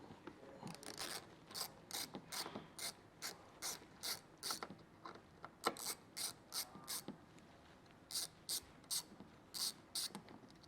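A hand ratchet backs out T20 Torx screws on a 2023 Chevrolet Traverse, working through steady strokes of quick, close ratcheting clicks with brief pauses between sets and no talking.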